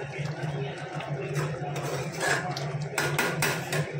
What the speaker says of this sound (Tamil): கரம் மசாலா ஆட் பண்ணிட்டு மேலாமல் ஒரு கிண்டி கிண்டி விட்டுறோம்